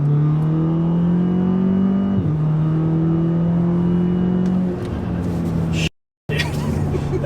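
A turbocharged Audi A3/S3 or VW GTI/Golf R accelerates hard on throttle. A loud engine note climbs steadily, drops briefly at one gear shift, then pulls again before cutting out for a moment near the end.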